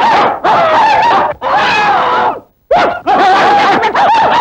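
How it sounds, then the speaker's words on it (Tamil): Several dogs yelp and bark in long, continuous, close bursts with a short gap in the middle, loud and agitated, in a Tamil comedy film scene. "4-5 நாயை கட்டி வச்சு கொலைக்க விட்டு கஞ்சி ஊத்துறியா?"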